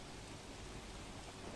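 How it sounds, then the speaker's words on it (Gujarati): Heavy monsoon rain pours steadily across the Banaskantha district of Gujarat, a dense, unbroken hiss of downpour on waterlogged ground with no voices. "બનાસકાંઠા જિલ્લામાં છેલ્લા 24 કલાકથી ધોધમાર વરસાદ વરસી રહ્યો છે"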